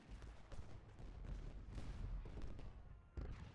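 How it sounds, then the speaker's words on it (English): Confederate musket volleys and cannon fire on a Gettysburg battlefield in a strategy game, a continuous faint rumbling crackle of distant massed gunfire with a sharper burst near the end. "I've also got dozens of guns firing on them."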